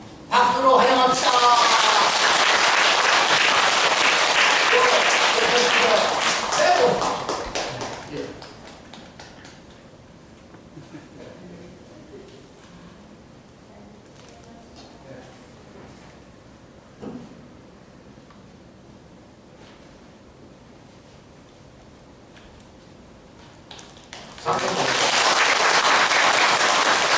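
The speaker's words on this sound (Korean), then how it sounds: "박수로 환영합시다" Applause from an assembled audience in a Buddhist temple dharma hall, welcoming a monk about to give a talk; a loud burst of clapping at the start, a long quiet stretch, then clapping swells again near the end.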